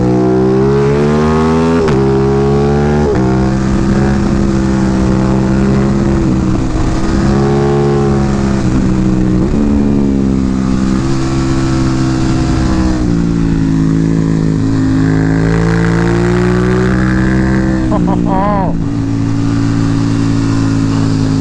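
An Aprilia Tuono 660 with an UpMap tune and mods revs hard in second gear. The engine note is loud and close, climbing and dropping repeatedly with sharp pitch sweeps.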